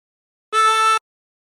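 A single sustained note drawn by inhaling through hole 6 of a 24-hole tremolo harmonica, about half a second long, rich in bright harmonics, heard alone against silence.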